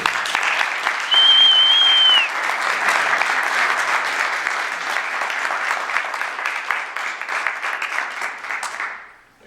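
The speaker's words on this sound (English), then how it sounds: "Please give a warm round of applause for Bobby Grich." A large crowd applauds steadily for several seconds at a Rotary club guest-speaker event, dense clapping with a brief whistle early on, then fading out at the end.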